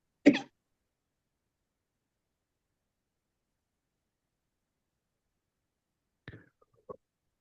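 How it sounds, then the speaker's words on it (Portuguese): A single sharp cough from a woman leading a group Bible study session, followed by silence and then a couple of faint, brief throat sounds near the end. "deu uma tosse."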